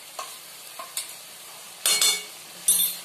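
Masala with green chilies fries for a coconut pickle, with a few light spoon taps and then two louder bursts of sizzling and stirring, close and otherwise quiet without speech.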